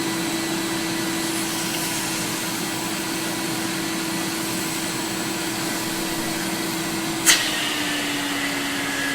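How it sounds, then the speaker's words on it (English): A clogged vacuum suction unit runs loud and steady with a strained, constant whine that shifts slightly after a brief knock near the end, with no talking. "You notice how the vacuum gets louder? Well, it's getting louder because it's clogged."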